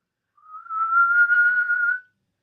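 A person whistles a single sustained, slightly wavering tone lasting under two seconds, imitating a bird call, clear and alone with no talk.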